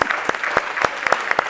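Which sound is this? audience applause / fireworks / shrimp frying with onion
audience applause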